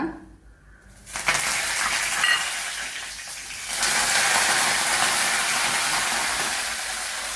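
Curry leaves dropped into frying grated coconut, with a quiet pan giving way to a sudden loud sizzle that surges again a few seconds later into a sustained hiss.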